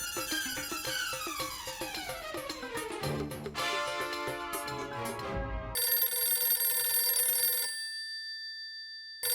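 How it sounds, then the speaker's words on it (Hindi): A telephone ringing in a sitcom household scene, bright repeated electronic ring tones layered over background music, growing shrill and steady before cutting off abruptly near the end. "अरे तेरा फोन बज रहा है, देख।"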